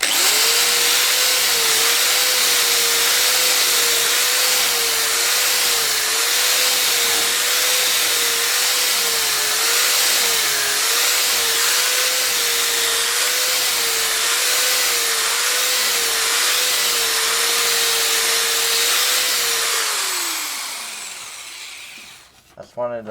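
A corded Black and Decker KR705K hammer drill spins a wire brush against an old rusty steel I-beam, giving a steady, loud grinding whir with a slightly wavering pitch for about twenty seconds before it winds down and stops.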